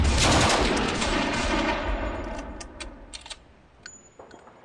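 Gunfire crackles in the Steel Panthers: World at War strategy game, opening with a loud, dense burst of shots that fades into scattered lighter pops and a faint ringing tone.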